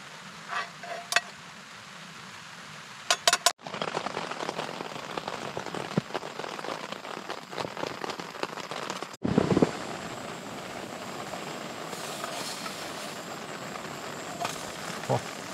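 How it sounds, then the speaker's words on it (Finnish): Rain falls steadily outside during a wilderness hike in the Vätsäri backcountry, a continuous patter on surfaces with a few sharp clatters and knocks, close and moderately loud throughout. "Ulkona sataa vettä"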